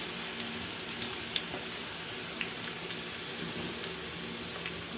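Grated raw mango poured into a hot pan for mango jam, giving a steady, close sizzle and hiss with a few faint scraping ticks, continuous and alone without voices.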